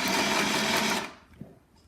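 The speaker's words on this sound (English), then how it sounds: "you can finish it off with a manual reverse stitch" A Shark by Euro-Pro sewing machine running a reverse stitch, loud and close for about a second before stopping, followed by a faint click.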